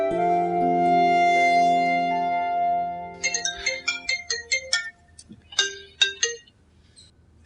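A phone rings loudly in a Pakistani drama scene, a sustained electronic ringtone tone for about three seconds, then a quick run of bright, chiming melodic notes with short gaps between them.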